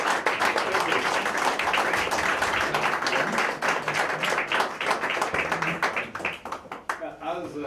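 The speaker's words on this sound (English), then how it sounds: "Give me an applause for the Henrik." Audience at an air transport awards ceremony breaks into sustained, dense applause that fills the room, thinning slightly toward the end, with scattered voices mixed into the crowd noise.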